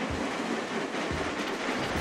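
Train running on rails in the video game Train Crisis, a steady rolling rumble with periodic low thumps like wheels crossing joints, continuous and fairly close with no talk.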